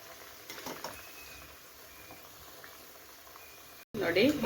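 Cabbage and moong dal vada frying in oil: a low, steady bubbling and patter of hot oil close by, ending in a sudden louder burst of crackling.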